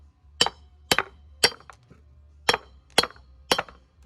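Sharp metallic hammer whacks drive wheel studs out of a 1967 Ford F250 drum brake hub, six loud ringing strikes at a roughly even half-second pace with short pauses between, close up and without talk.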